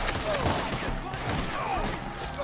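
Bursts of gunfire ring out in a Red Dead Redemption 2 shootout in the woods, several overlapping shots within a couple of seconds amid game noise and shouting voices.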